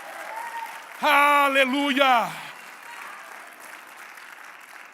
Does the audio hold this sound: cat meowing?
no